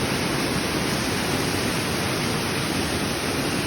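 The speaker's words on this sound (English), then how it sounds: "So we are up close and personal with the waterfall" A waterfall at Santa Fe Lake near Augusta, Kansas, heard up close as a dense, unbroken rush of falling water, steady and loud from start to finish with nothing else audible.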